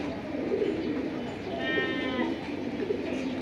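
Flying pigeons in a loft give soft, low cooing and burbling calls, close by, with a person talking over them.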